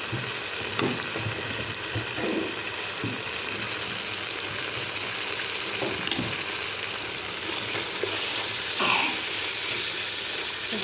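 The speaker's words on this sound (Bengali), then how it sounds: "এখানে একটু নেড়ে চেড়ে নেব" A spoon stirs beef curry with chili powder and turmeric inside a rice cooker, giving a soft continuous sizzle with occasional scraping knocks against the pot, close by and without talk.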